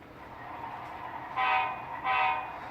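An HO scale model locomotive with an onboard sound system starts up while running on DC power, giving a steady low hum followed by two loud, horn-like blasts close by.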